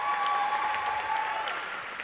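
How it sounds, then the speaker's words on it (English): A pageant audience gives a round of applause at a Miss Hospitality competition, a steady wash of many hands clapping at a moderate distance, unbroken throughout. "I think that deserves a round of applause"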